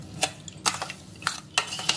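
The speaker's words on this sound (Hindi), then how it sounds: "अब इसको मैश कर देंगे।" Bael fruit pulp being mashed by hand with sugar and water for juice, giving wet squelching and stirring sounds in four or five irregular bursts, close up and fairly quiet, with no talking.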